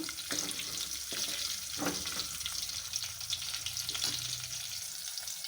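Onion pieces stirred into hot oil tempered with coriander seeds for tomato rasam, a loud steady sizzle of frying with occasional scrapes and knocks of a spoon against the pan.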